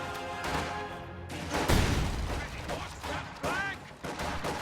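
Video game battle gunfire as conscripts in a house fire on Volksgrenadiers, with sharp rifle cracks and bursts in irregular clusters, some near and loud, mixed with impacts and a low boom.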